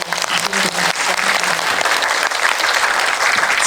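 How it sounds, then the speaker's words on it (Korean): Audience applause at a Korean film screening's guest-visit talk with the lead actress. Dense, loud clapping fills the whole few seconds, steady and continuous without talk. "큰 박수 부탁드리고"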